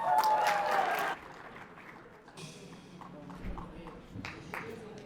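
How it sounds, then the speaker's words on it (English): An audience at a Bangladesh Night stand-up comedy event at the University of Wyoming gives a short burst of applause. A voice is heard at first, then the clapping thins to faint, scattered claps. "Please welcome them with a big round of applause"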